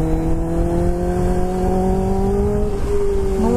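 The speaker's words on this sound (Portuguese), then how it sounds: "Olha, velho, o ronco da BM" A BMW engine roars loudly and steadily, a continuous harmonic drone that holds its pitch for several seconds before shifting slightly near the end, heard up close with no talking.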